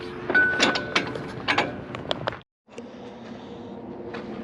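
Impact wrench tightening ripper bolts on a John Deere 850J dozer, firing in repeated short rattling bursts with a brief pause, then a steadier mechanical whir near the end.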